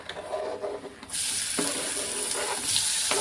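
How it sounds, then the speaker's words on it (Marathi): Chopped onion dropped into an already hot kadhai for a bitter gourd stir-fry, bursting into a loud, steady sizzle after a quieter start, with brief clatters in between. "कढई अगोदरच गरम झालेली, तुम्ही लगेच कांदा पण टाकून घेते."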